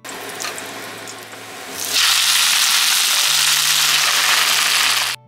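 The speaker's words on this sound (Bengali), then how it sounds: "মাছগুলো ভেজে ওই তেলেই পেঁয়াজ বাটা দিয়ে দিলাম" Onion paste hits hot oil left over from frying fish and bursts into a loud, steady sizzle after a few seconds of quieter kitchen clatter, hissing continuously until it cuts off.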